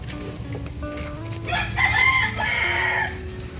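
Rooster crowing nearby on a farm among ducks, one drawn-out cock-a-doodle-doo rising over a low background of clucking and ambient noise, moderately loud, no talk.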